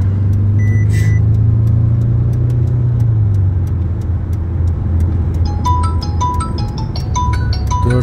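A Mercedes-Benz W221 S350 4Matic with a seven-speed automatic gearbox under transmission repair accelerates through its gears, its engine drone stepping down in pitch at each shift. Faint ticking and chimes sound inside the cabin.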